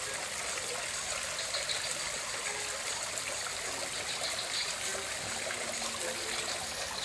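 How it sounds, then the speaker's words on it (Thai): Steady rushing and trickling water from a newly installed electric pump fountain, a constant close splash that never lets up across the whole stretch. "น้ำพุเราติดตั้งแล้วนะครับ"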